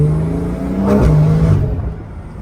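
A car with a newly fitted exhaust system revs up and holds a loud, throaty drone, rising in pitch before easing off near the end.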